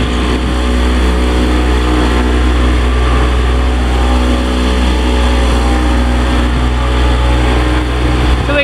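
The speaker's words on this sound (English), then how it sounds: "so he has this outboard motor as his engine." Outboard motor running on a boat at a marina in Fiji, a loud, steady engine drone that continues unbroken throughout and sounds close.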